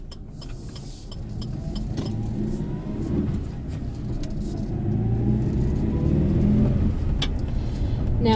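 A 2020 Great Wall Steed twin-cab ute with a 2.4L petrol engine and 5-speed manual drives along, its steady low engine rumble and road noise growing gradually louder with no talk.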